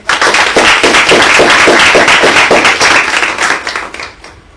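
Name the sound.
audience applause welcoming speaker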